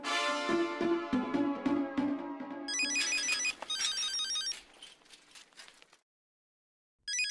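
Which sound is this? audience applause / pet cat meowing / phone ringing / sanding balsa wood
phone ringing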